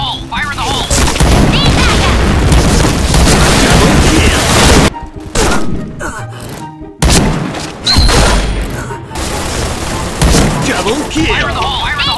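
Repeated grenade blasts and explosive booms in the shooter game Point Blank, loud and dense, with brief drops near five and seven seconds before the barrage resumes; game voice announcements sound over the action.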